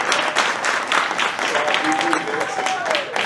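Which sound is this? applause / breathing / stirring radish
applause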